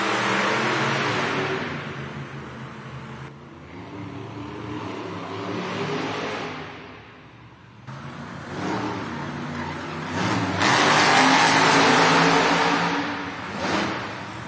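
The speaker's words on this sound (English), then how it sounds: "When you see those yellow lights, that means our drivers need to fire their engines and head to the starting line" Two Monster Jam trucks, Gravedigger and Spider-Man, rev their engines and race in an arena event in Birmingham, UK, loud roaring throughout with surges as they accelerate and crowd noise beneath.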